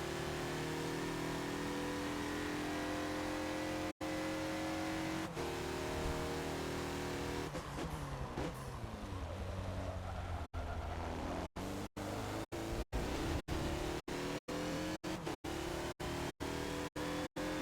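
The 2014 Mazda Lola B12/80 race car at Sebring in Forza drones with a steady engine tone, then revs and shifts through repeated sharp cuts in the sound near the end. The sound is quiet overall and no one speaks.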